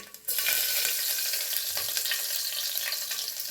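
Curry leaves and onion hit hot oil for a fish curry, bursting into a loud, steady sizzle after a brief quiet start and crackling on without pause, with no voices.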